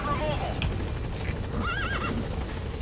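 A horse in Metal Gear Solid V whinnies in a rising, wavering call over clip-clopping hooves and steady background noise, with a voice talking alongside.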